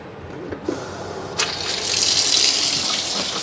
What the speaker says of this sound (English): we'll come over here and we'll turn on the hot water